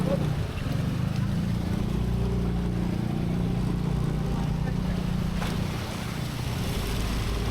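Motorcycle riding through deep flood water on the way to the New Manila International Airport in Bulacan, a steady low engine rumble with constant churning water noise throughout, and a voice speaks over it.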